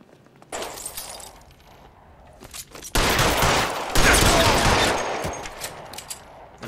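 Gunfire erupts in the crime game L.A. Noire, starting with scattered isolated shots and building into a loud, dense fusillade of rapid cracks and bursts, with glass seeming to shatter amid the shooting.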